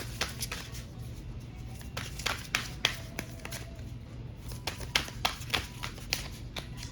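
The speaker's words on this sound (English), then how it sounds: "I'm just shuffling." Tarot cards are shuffled by hand close up, a soft riffling with irregular quick taps and flicks repeating throughout, no voices.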